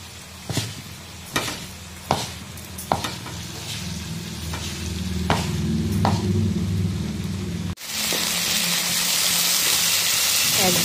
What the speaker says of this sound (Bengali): এখন আমি মানে মেখে নিচ্ছি সমস্ত কিছু দিয়ে